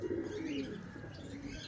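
A racing pigeon, a red bar back from a 99 km summer training race in Candelaria, Quezon, arrives at the loft amid soft nearby cooing and low bird sounds, quiet and continuous.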